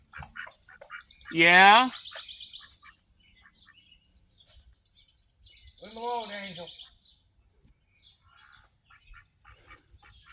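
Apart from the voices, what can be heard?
pet birds squawking after a dog attack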